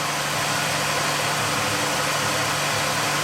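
A truck engine warming up at idle outdoors, a loud continuous rumble with a steady low hum and broad noisy texture, unchanging and close throughout with no talk.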